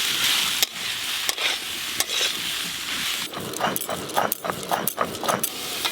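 Mustard oil, panch phoron, dry chillies and ginger paste being stirred together in a hot pan for khichuri, with sizzling under repeated scraping and clanking spoon strokes, close and fairly loud.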